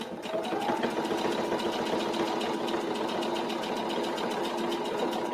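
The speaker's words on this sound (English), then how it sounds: "I'm just gonna stitch that down that one side." A sewing machine stitches a seam down one side of a simple fabric shoe bag, a steady rapid mechanical chatter of needle strokes at close range, continuous and alone.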